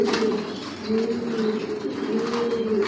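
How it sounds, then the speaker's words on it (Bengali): Racing pigeons of a Johnson line coo in a breeding loft housing around 200 pairs, a close, continuous layered murmur of low rolling coos from many birds. "অরিজিনাল রেসার জনসন লাইনের কবুতর পালি"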